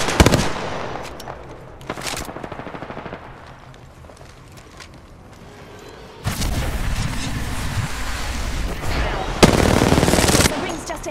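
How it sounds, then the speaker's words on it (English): Automatic gunfire in the video game Apex Legends crackles in rapid bursts, quieter in the middle and then louder and denser toward the end, close and sharp, with no voices in the clip. "Taking fire, Ross."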